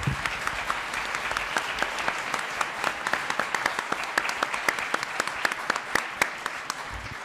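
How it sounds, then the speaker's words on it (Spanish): Steady applause from an audience at an astronomy panel talk, a dense even patter of many hands clapping throughout with a few sharper individual claps standing out. "les pido un aplauso para todos."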